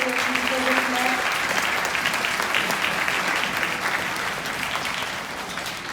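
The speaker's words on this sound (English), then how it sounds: "If we could give them a nice round of applause" Audience applause at an elementary school concert, a steady wash of clapping from a crowd that holds throughout and slowly thins toward the end, with a brief tonal sound early on.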